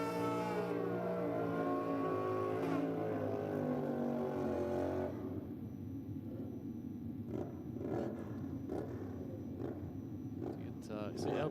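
Suzuki GSXR drag racing motorcycles launch at a no-prep drag racing meet in Australia: loud, rising engine revs, then a broad roaring launch with sharp bursts, while a commentator talks over it.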